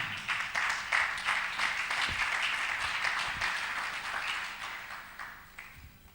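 A congregation applauds to acclaim Jesus during a church service in Abidjan, a steady wash of many hands clapping at once that carries evenly for several seconds before easing off slightly toward the end.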